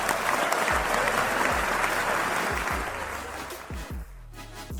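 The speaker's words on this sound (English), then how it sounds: "round of applause please." Audience applause in an indoor venue at a teen beauty pageant grand finale, a dense sustained clapping that carries loud for several seconds, then thins and fades to scattered claps and quiet near the end.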